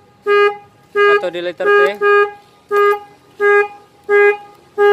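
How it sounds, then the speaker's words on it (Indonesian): Aftermarket CR7 alarm fitted to a Honda Scoopy Fi motorbike blares its horn in a loud repeating pattern of rising-falling tones, about eight bursts with brief gaps, while someone speaks faintly underneath. "Jadi apabila kendaraan ini disenggol, maka klaksonnya akan berbunyi ya."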